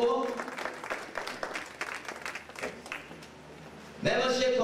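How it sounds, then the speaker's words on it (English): Convention audience applauding for a member called to the front, a burst of clapping rising near the end after a stretch of loud talk over the sound system. "A round of applause for Brother Samson Toe."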